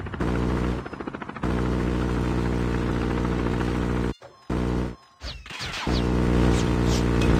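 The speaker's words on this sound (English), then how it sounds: "Deployed chopper gunner." A chopper gunner killstreak helicopter in Call of Duty Mobile drones loudly and continuously with a buzzing rotor hum, broken by a few abrupt dropouts before the roar resumes.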